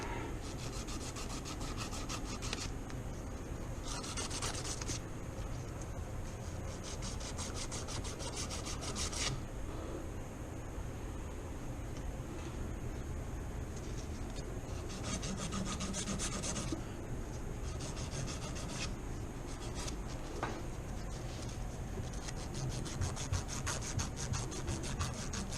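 A golf club shaft is sanded down through its finish to the graphite, a steady dry rasping rub that runs continuously for the whole stretch, with denser scraping bursts coming and going, close and fairly loud with no talking.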